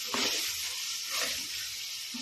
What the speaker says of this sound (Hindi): आपने इसको अच्छी तरह से मिक्स करके इसकी भुनाई कर लेनी है।